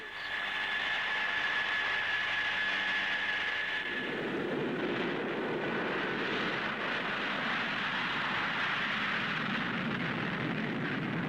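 Armstrong Whitworth Argosy aircraft depart with a loud, continuous engine roar whose tone shifts midway as the sound swells and spreads, heard at a distance with no talking.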